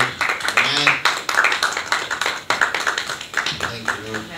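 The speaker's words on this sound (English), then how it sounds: "Let's give the Lord a clap offering." A church congregation claps as an offering of praise: a series of sharp, fairly loud clap bursts in an uneven rhythm, with voices calling out between and over them.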